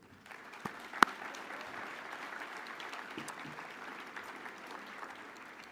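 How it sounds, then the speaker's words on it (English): An audience applauds the competitors at the Rice Business Plan Competition elevator pitch event, a dense, steady clapping from a crowd that swells slightly and holds at a moderate level, with one sharper clap standing out early. "So how about final round of applause for this year's Rice Business Plan competition competitors"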